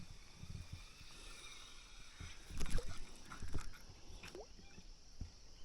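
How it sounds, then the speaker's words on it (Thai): Paddle strokes splash and swish through a flowing canal at a steady, unhurried pace, with soft dripping and outdoor ambience around them. "พายเรือเข้ามาในคลองนะครับ"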